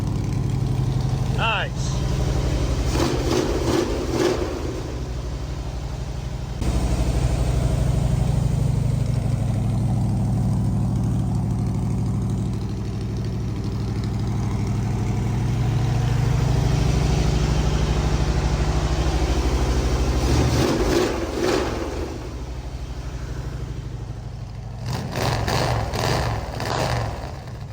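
Project car engine idling with a steady low rumble, close and fairly loud, running continuously while someone speaks briefly over it at the start and end.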